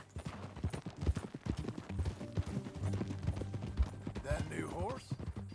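Horse hooves clip-clop steadily in Red Dead Redemption as riders travel together, a rhythmic mid-distance trot running under game characters' talk and music, with a brief whinny-like squeal near the end.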